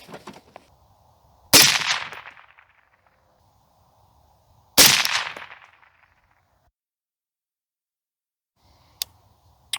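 Two loud, sharp rifle shots ring out several seconds apart at a range while sighting in, each decaying with a short echo, followed near the end by a couple of faint clicks.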